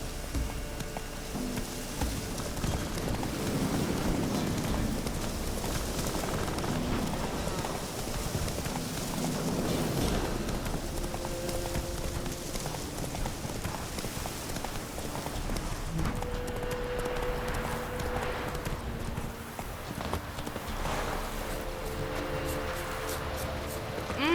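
Roach, Geralt's horse in The Witcher 3: Wild Hunt, gallops steadily with rhythmic hoofbeats over a dense, loud game soundscape of music and ambience that lasts the whole stretch.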